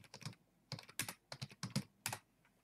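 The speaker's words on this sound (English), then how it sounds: "Now, this is where you start typing." Bursts of keyboard typing, clicks coming in quick irregular clusters with short pauses between, close and fairly quiet.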